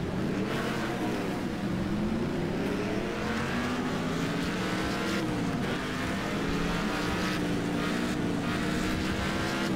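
Several cars race around a quarry track in the video game Wreckfest, engines droning loudly and continuously with rising and falling pitch as they jostle close together throughout.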